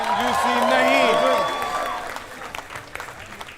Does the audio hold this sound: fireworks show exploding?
no